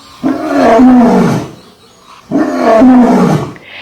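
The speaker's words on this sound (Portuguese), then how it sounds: "Vamos ouvir qual é o barulho que o leão faz?" A lion gives two loud, deep roars, each about a second long, with a short pause between them and no talk.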